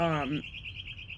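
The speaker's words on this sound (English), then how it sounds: "Birds. Fancy fucking birds." A bird gives a short chirp, a bright rising call that fades quickly into a thin, faint high whistle over light background noise.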